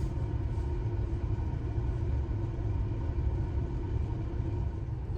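Gas-powered Nissan Rogue SUV driving on snowy winter roads in Maine, heard as a constant low rumble of engine and road noise from inside the cabin, steady throughout with no talking.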